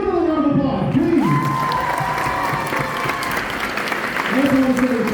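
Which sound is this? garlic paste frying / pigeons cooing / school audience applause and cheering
school audience applause and cheering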